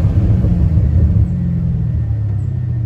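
A 3V Mustang with a Pypes Violator axle-back exhaust drives through a subdivision, its deep rumbling exhaust loud and close, easing from a throatier pulse to a steadier drone.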